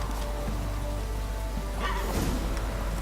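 Steady rain hiss in The Witcher 3, a dense continuous patter with a low rumble beneath, constant and fairly loud throughout with no voices.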